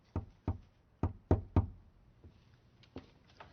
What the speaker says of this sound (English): Someone trying to break down the door.